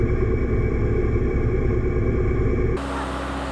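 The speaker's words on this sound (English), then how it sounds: "we run the tractor at the same RPM to get the 540 RPM to the pump" Tractor engine running steadily at PTO speed to drive a 540 RPM sprayer pump, a loud continuous rumbling drone that holds level and then shifts to a slightly lower, smoother tone near the end.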